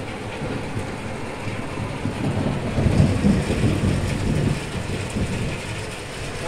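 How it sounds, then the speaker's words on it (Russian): Deep rolling thunder from an evening thunderstorm, a continuous low rumble that swells to a peak around the middle and then slowly subsides, with steady rain-like hiss underneath and no talking. "Вот это гроза."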